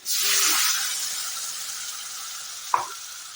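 Cashew paste gravy thinned with water sizzles in a pan over low gas, a loud hiss at first that slowly fades, with one short scrape of stirring near the end.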